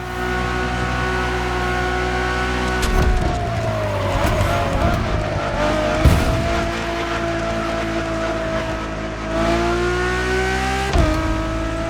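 A Ferrari Enzo supercar in the racing game The Crew Motorfest roars loudly with a high revving engine note, shifting gears with pitch drops and tire skids as it accelerates hard.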